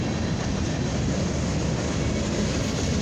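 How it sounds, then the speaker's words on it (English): A westbound CFE mixed freight train rolls past a road crossing at night, a steady close rumble and rushing roar of cars on the CFE main line with no talking. "A CFE train. This is a westbound."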